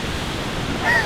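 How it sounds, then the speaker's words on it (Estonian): Waterfalls in Croatia roar as a steady broadband rush of falling water, with some wind buffeting the microphone and a faint voice near the end. "Ma tahtsin tegelikult koske näidata."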